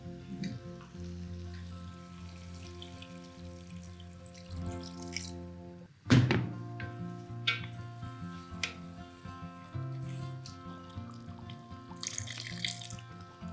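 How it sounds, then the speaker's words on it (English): Water poured into a pan of cooked nut and onion paste for Awadhi chicken korma, a splashing pour with a sharp clatter midway, then bubbling and a soft sizzle beneath hum. "So we're going to add the water"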